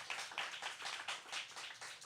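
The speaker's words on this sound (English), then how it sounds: "So a round of applause for a lot of our new teachers." Audience applause for new teachers at a company town hall, a short burst of scattered clapping with a few steady pulses, fairly faint and at a distance, no voices over it.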